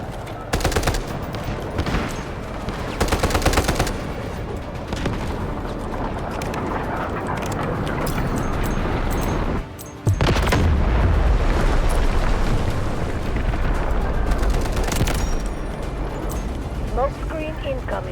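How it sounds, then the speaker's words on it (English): Artillery barrage in the video game Delta Force Hawk Ops: loud booming explosions and bursts of gunfire crash repeatedly over a constant battle din, with a player talking over it. "Artillery barrage incoming."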